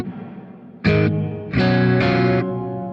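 Single reverb patch on a BOSS RV-500 reverb pedal, with three processed note bursts, one short then two longer sustained ones, each washed in reverb and tailing off, fairly loud with no talk.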